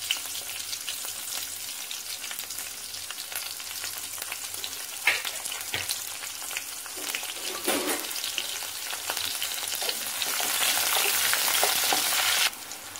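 Crushed garlic cloves and green chillies frying in hot oil, a continuous close crackling sizzle with occasional stirring scrapes and pops, growing louder toward the end, no voices.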